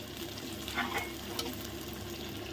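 Green chilies frying in a pan of fish curry base give a steady, close, dense sizzle with a few brief stirring scrapes over it, alone without talk.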